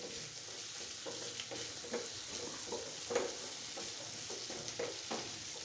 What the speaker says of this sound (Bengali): আমি এটাকে ভালোভাবে ভেজে নেব।